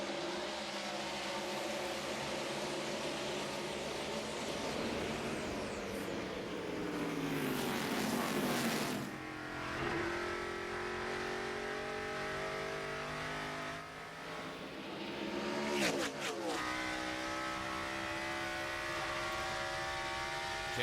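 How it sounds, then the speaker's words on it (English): NASCAR Busch Series race cars at the Gateway 250 roar past on the track in 2007, engines droning and swelling as cars pass by in waves, with sharp pass-bys near eight and sixteen seconds. "And we're coming down to the green flag, and it's the Toyota of Rudeman who will lead him down"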